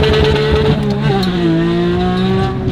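A McLaren Senna drifts with sustained tyre squeal over a loud, steady engine drone, held close and continuous throughout.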